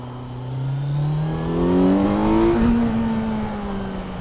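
A 2024 Kawasaki Z900 motorcycle engine pulling hard under acceleration, its tone climbing steadily and then easing as traction control intervenes, close and loud with no talking.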